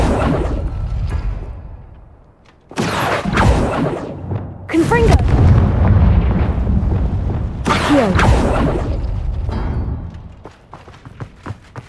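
A Confringo explosive spell goes off in the video game Hogwarts Legacy, giving loud booming bursts with whooshing tails, several blasts in a row, set against game sounds and voice effects.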